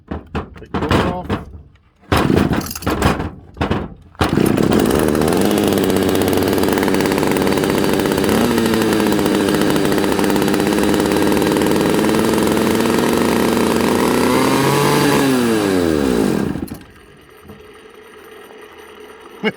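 A vintage Pioneer chainsaw, an old barn-find power saw, roars loud and steady after a few short sputters, its engine note wavering with throttle before cutting out near the end; no talk over it.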